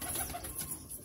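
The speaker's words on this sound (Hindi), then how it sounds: "और ये देखिए क्वालिटी इसकी बहुत ही बेहतरीन हाई फ्लायर पिजन है।" A high flyer pigeon gives a soft, brief coo close by, faint against background noise.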